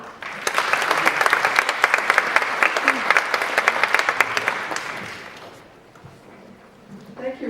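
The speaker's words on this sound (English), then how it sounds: "please, round of applause" A conference audience at a caregiver summit in San Antonio bursts into lively applause for a speaker. The clapping is dense and rapid for about five seconds, then thins out and fades into quiet.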